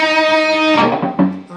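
Electric guitar playing the second half of a rock motif in A, starting on the open fifth string: a sustained bright, effected note rings, then a few quicker picked notes follow, close and clear, with no talking.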